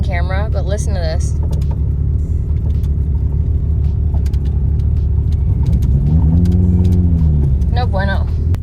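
A Mitsubishi Lancer Evo 5 engine runs with a steady low rumble that never stops, rising into a slow wavering drone toward the end. Someone talks over it at the start and again at the end.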